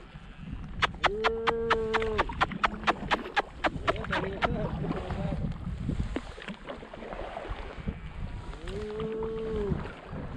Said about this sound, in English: look at the little cows